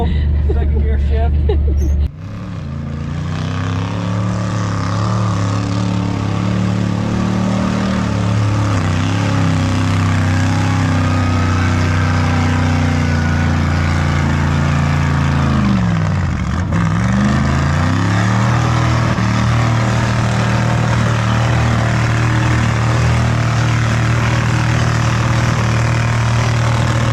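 A mud bog vehicle at the Eureka Dune Runners event roars steadily and loudly, its engine note dropping and climbing again midway as it shifts slowly into second gear, with crowd noise faintly underneath.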